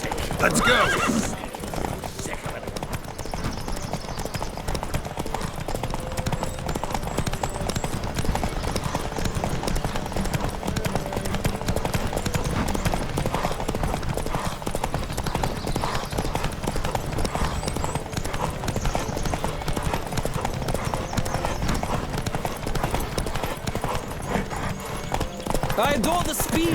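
Galloping hooves clatter steadily throughout a horse race in The Witcher 3: Wild Hunt, with occasional horse whinnies and snorts over a busy, continuous mix of game effects and background voices.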